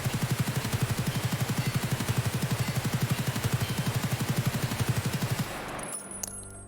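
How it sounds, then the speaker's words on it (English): A long-barrel RPK machine gun in Escape From Tarkov fires one sustained, steady full-auto burst of evenly spaced shots for about five seconds, loud and close, then cuts off into quiet game ambience. "Now let's do a quick recoil comparison here, starting off with the meta RPK here, the long barrel version of the RPK."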